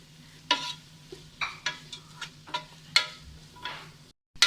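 Mixed vegetables with capsicum sautéed in a pan for an Indo-Chinese spaghetti noodle dish, a low sizzle under repeated clinks and scrapes of a spoon stirring, close and fairly quiet.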